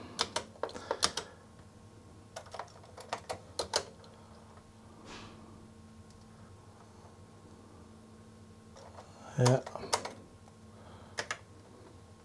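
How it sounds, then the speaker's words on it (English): Keys tapped on a Sanyo Wavy 23 MSX2 computer during a keyboard test: scattered sharp clicks in small bursts with pauses, then a louder cluster near the end, close and quiet against faint background hum. "and you can test the keyboard"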